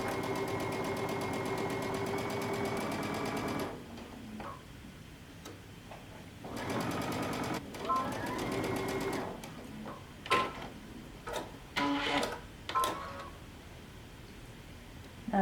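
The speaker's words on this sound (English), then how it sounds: "we're going to sew using 5/8 of an inch seam allowance from one top all the way down to the center" A sewing machine stitches a dress seam with 5/8 inch allowance, running in several bursts of rapid ticking with pauses between them and handling noises in the gaps, fairly quiet and close.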